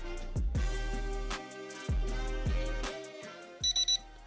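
A loud electronic tone sequence from a GT8 drone controller over a low hum: three groups of beeps, each a few short tones, followed by three quick high-pitched chirps at the end.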